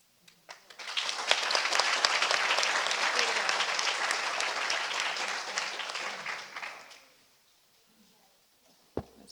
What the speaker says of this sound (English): Can we give another round of applause for everyone that shared?